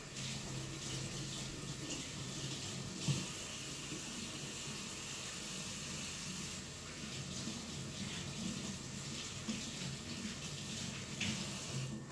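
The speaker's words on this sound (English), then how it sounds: "I'm gonna rinse my hands real quick." Tap water running steadily into a kitchen sink while hands are rinsed, a continuous broadband hiss at moderate level with small splashy variations throughout.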